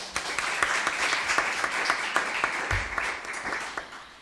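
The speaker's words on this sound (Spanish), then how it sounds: "un fuerte aplauso para ella" Sustained applause from an audience at a conference on domestic and care work, steady dense clapping with a few sharper individual claps standing out, fairly close and continuous throughout.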